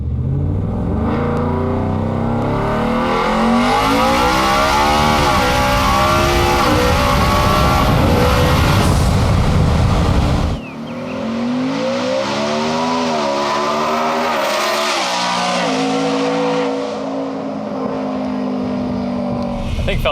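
A 1716 hp four-wheel-drive Ford F-150 with a Coyote V8 making an all-out pull, its engine screaming up through gears with rising pitch sweeps, a brief break near the midpoint, then another loud sustained climb.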